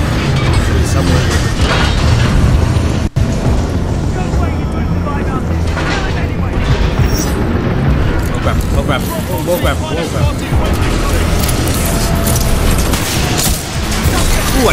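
Dense, loud gunfire and booming explosions from the video game Titanfall 2 run without a break under heavy continuous game noise, with someone talking over the top.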